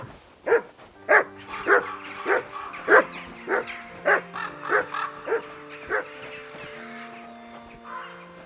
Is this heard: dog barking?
yes